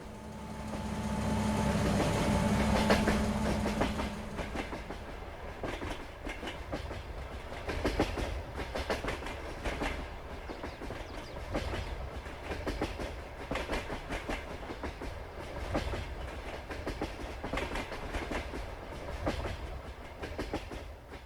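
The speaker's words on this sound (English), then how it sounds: "Train! Oh, that's loud." A video game train in Farming Simulator 22 rumbles past with steady clickety-clack of wheels on rails, loud at first and then continuing as a rhythmic clatter throughout.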